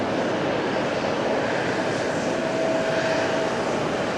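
ATR 42 turboprop at Fukuoka Airport, its engines a loud, steady roar that fills the whole stretch without letup, no voices over it.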